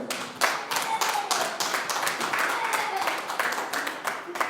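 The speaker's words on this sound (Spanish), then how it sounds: "Denle un aplauso al Señor, por favor" A church congregation applauds in praise, dense crackling clapping running steadily throughout with voices calling out over it.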